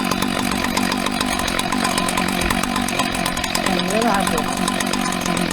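Husqvarna 2100cd chainsaw rebuilt from mixed parts runs at a steady loud drone with a slight rise in pitch near the end, close by, while someone speaks briefly over it.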